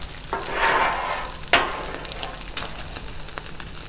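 Sausage fries on a greasy 36-inch Blackstone griddle, a close, hissing sizzle broken by a few sharp spatula scrapes as the links are pushed around, with no voices.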